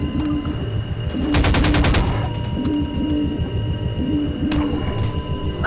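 Rapid burst of game gunfire from a modded shotgun, a dense loud volley of close repeated blasts over a steady droning background, followed by a single sharper shot later.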